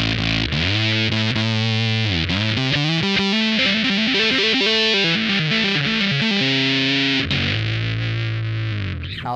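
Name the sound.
bass guitar through Big Muff pedal into SansAmp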